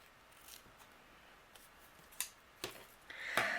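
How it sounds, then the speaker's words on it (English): Scissors snip through ribbon tails on a holiday handmade card, a few sharp isolated cuts spaced apart and growing slightly louder toward the end, close and quiet with no talking. "I'm going to go ahead and trim the tails of my ribbon here"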